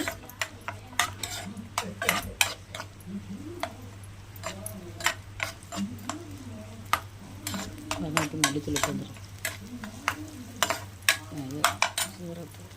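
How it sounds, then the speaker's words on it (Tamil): Two large sliced onions sauté in hot oil for a prawn gravy, with frequent spoon clicks and scrapes against the pan over a low hum and a faint background voice. "அந்த வெங்காயத்தை போட்டுக்கோங்க நல்லா வதக்கி விடுங்க"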